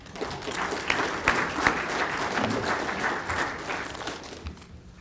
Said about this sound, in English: let's give Blake a round of applause